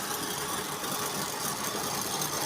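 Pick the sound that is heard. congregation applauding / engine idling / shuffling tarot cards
engine idling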